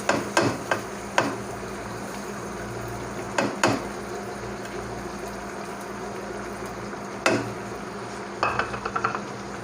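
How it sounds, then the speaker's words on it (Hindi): Spoon scraping and knocking in a pan of finely chopped tomatoes and keema, with a few sharp metallic clinks over a steady low sizzle, no voices. "चम्मच चलाएंगे।"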